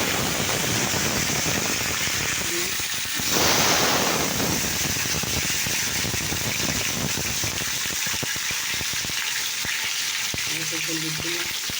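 Panch phoron spices and dried red chillies sizzle in hot oil, a loud, steady, close hiss that carries on without a break, with faint talk briefly heard beneath it.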